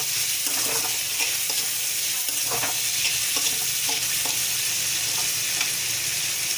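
Onions sizzle steadily in a hot pan for a vegetable curry, with scattered clinks and scrapes as a spoon stirs them throughout; no voices.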